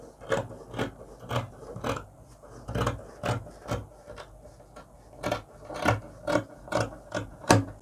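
Scissors snip through blouse fabric along a curved neckline, a steady series of short rasping cuts at close range with no talk.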